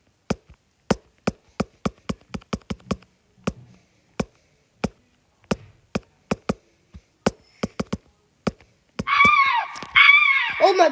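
Loud scream sound effect in the video game Fallen Horizon, bursting out near the end after a run of sharp, irregular tapping clicks in near-silence.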